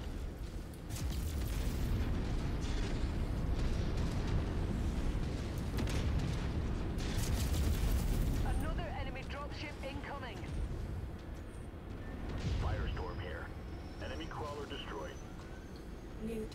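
Heavy booming explosions from a destroyed mech in the MechWarrior 5 video game, a long rolling roar of blasts and debris that swells loud then settles, with radio-style voice callouts over it.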